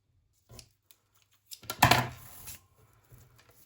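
Scissors snip through crochet yarn from a bag project in a quiet setting. A light click comes first, then one short, crisp cutting crunch, followed by faint handling noises.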